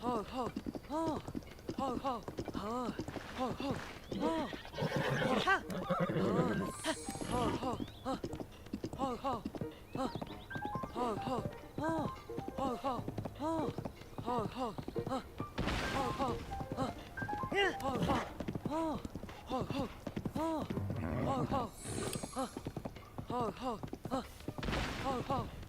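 A horse gallops with steady rhythmic hoofbeats in Zelda Tears of the Kingdom, running continuously at moderate level while a player talks over it throughout.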